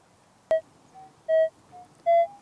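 A metal detector beeps over a buried target during detecting, with three short clear tones alternating with softer lower blips, close and distinct against a quiet background, after a single sharp click.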